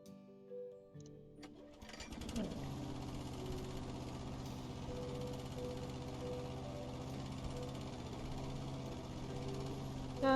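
Lawn mower engine in a house-flipping video game, a steady droning motor hum that starts after a short quiet lead-in and holds at an even, fairly faint level with no talk over it.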